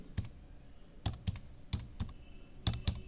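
Fingers tap a computer keyboard up close in short bursts of a few keystrokes, separated by brief pauses, with no one speaking.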